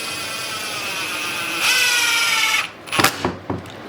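A power drill drives screws into a cheap DIY wooden mobile base: a steady, close motor whine that swells louder for about a second, cuts off, then returns as a few short, sharp bursts.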